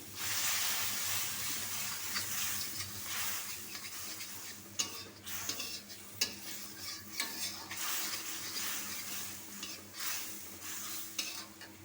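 Spice paste with chili powder is stirred and sautéed in a pan for a pumpkin and shrimp fry, giving a steady close sizzle broken by repeated scraping and clinking of the spoon against the pan.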